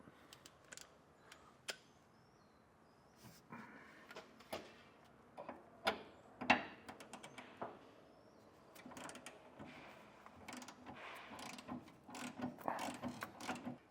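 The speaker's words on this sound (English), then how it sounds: "I'm going to start tightening down the jam nut on top that goes to our combo bolt" Socket ratchet driving a 24mm jam nut down onto a combo bolt on a Firestone Ride-Rite rear air helper spring bracket of a 2025 Chevrolet, giving a series of close, quiet clicking bursts at an irregular pace, with no talking.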